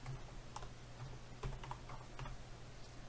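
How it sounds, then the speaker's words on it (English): Quiet keyboard typing on a computer, a short burst of irregular key clicks entering a filename, close and faint over a steady low hum. "let's try typing contents.txt here."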